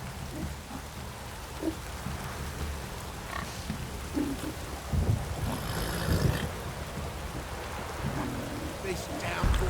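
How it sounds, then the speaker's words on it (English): Downpour rain in the video game The Witcher 3 makes a steady wash of falling water, with occasional grunts, footsteps and other game sounds rising briefly over the constant hiss. "This downpour's a bastard"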